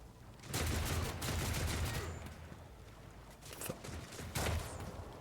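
An enemy gunner in Warhammer 40K: Rogue Trader fires a fairly quiet, rattling burst of rapid gunshots, followed by a few scattered shots and thuds toward the end.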